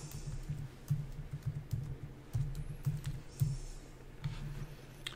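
Keys clatter on a computer keyboard while someone enters text into an Excel spreadsheet, a steady run of light, close clicks in short bursts with brief pauses.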